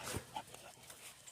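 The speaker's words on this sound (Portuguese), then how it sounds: "os cachorrinhos hoje aqui estão impossíveis" Small dogs yap in brief, fairly faint bursts, a short sharp bark followed by a softer whine-like sound over a quiet room.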